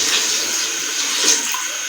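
Water is poured into a pot of browned beef for degi-style aloo gosht, a steady splashing rush of liquid with a bright hiss, close and fairly loud, continuing without a break and with no talk.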